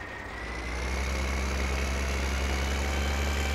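A tractor engine in Farming Simulator 2015 idles at a steady, loud, even rumble. It starts slightly softer, then holds constant with no talk.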